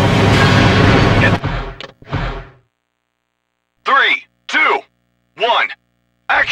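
A loud, rumbling explosion in the stunt-driving video game Stuntman: Ignition booms briefly at the start, followed by a few short spoken phrases separated by silence.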